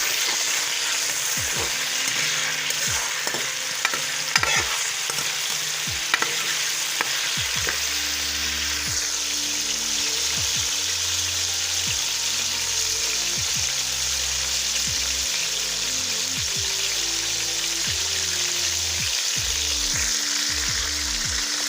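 Onions frying in hot oil in a home kitchen, a steady close sizzle running throughout, with intermittent scraping and stirring clicks from a utensil in the pan.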